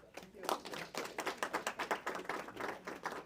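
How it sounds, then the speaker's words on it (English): An audience at a high-level roundtable gives a round of applause, a brief burst of rhythmic clapping that swells and then thins out, moderately loud across the room. "Big round of applause."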